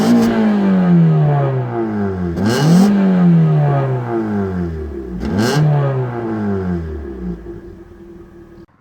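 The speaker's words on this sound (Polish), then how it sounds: "Posłuchajmy jeszcze, jaki dźwięk wydobywa się z tyłu." A 1990 Honda CRX with a 1.6 16-valve engine revving loudly up close at the exhaust, climbing to high revs three times in sweeping rises and falls with a raspy tone, no talk.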